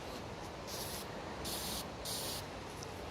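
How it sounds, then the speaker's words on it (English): A pump spray bottle of walnut oil wood stain hisses in three long continuous bursts, each lasting about half a second, close and fairly quiet, with no talking. "I love that it has the continuous spray rather than you having to just stop and repump"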